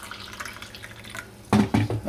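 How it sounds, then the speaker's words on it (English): Pre-boiled water pours into a pot for porridge, first a faint trickle, then louder splashing bursts toward the end, nearby and without talk. "4 builder's mugs worth of water to it to boil the porridge."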